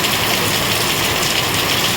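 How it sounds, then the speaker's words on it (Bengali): Heavy rain pours onto a veranda in the Andaman Islands, a loud, close, unbroken wash of drumming drops with no voices over it. "এই যে বৃষ্টি দেখুন পুরো বারান্দা ভিজে গেছে এত জোরে বৃষ্টি হচ্ছে"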